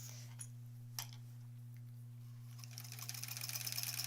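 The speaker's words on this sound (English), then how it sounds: "So this is my old Kenmore sewing machine." An old black, boxy, industrial-looking Kenmore sewing machine begins stitching, its rapid mechanical ticking building toward the end after a few quiet clicks, heard close over a steady low electrical hum.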